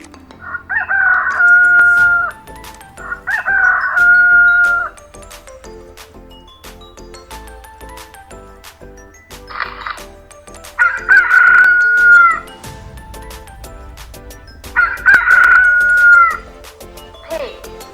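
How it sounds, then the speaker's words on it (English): A rooster crows loudly and repeatedly, each drawn-out cock-a-doodle-doo spaced several seconds apart, with brief spoken words in the gaps between crows. "Rooster, rooster,"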